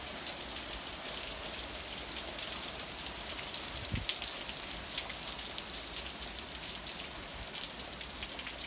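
Steady, dense hiss of heavy rain during a severe squall line, with water pouring off a roof and splashing continuously, no voices.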